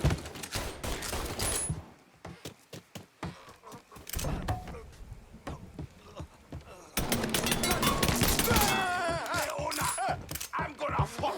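Gunfire in Mafia 3, with rapid bursts of shots and heavy impacts in two dense clusters separated by a quieter stretch, and shouting voices mixed in.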